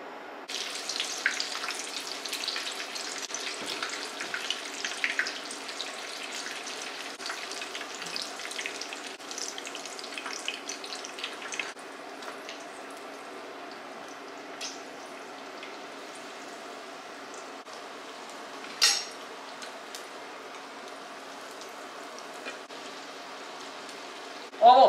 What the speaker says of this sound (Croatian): Ovo pecite sigurno jedno 5 minuta i s jedne i s druge strane da se fino onako zapeče i ispeče